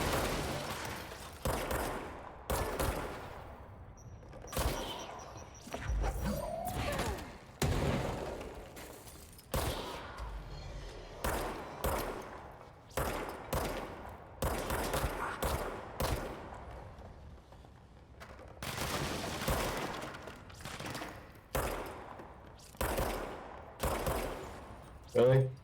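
Gunfire from the video game Control comes in repeated sharp bursts and single shots, with rapid-fire volleys recurring across the whole stretch, fairly loud against background game sounds.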